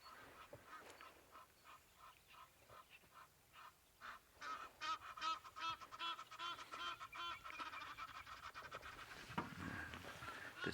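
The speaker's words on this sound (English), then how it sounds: "Bit of a display there from our Egyptian gooses." Egyptian geese in South Africa honk in a loud display, a dense run of overlapping harsh calls that builds from sparse notes into a continuous clamor, heard at moderate distance outdoors.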